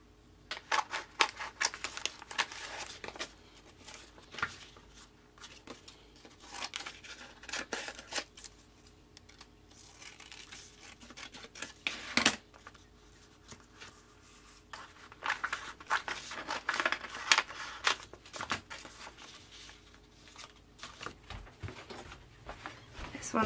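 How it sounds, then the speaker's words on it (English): Handmade collage paper is cut with scissors and ripped by hand in a run of soft, close snips, tears and rustles, scattered irregularly and quiet throughout. "I do a mix of cut edges and ripped edges."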